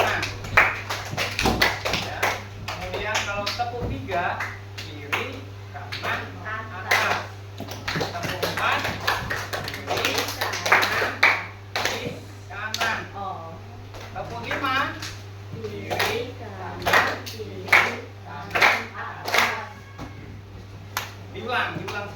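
A group of students claps in a counted pattern in a classroom, with sharp taps in clusters repeated through the drill over steady hum, while a teacher talks between rounds.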